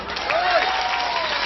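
Audience applause at a live religious talk in Taiwan, a brief, steady wash of clapping with crowd noise and a voice over it.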